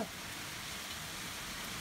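Steady, dense hiss of heavy rain pouring down, even and continuous throughout without a break, no other sounds standing out.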